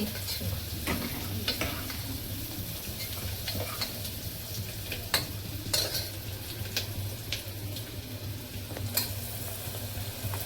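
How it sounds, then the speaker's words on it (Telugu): Mutton goes into a pan of frying onions for a curry, giving a steady close sizzle and frying hiss with scattered scraping and clinking of a spatula throughout. "ఇది ఉల్లిపాయ ఆగింది, మటన్ వేద్దారండి."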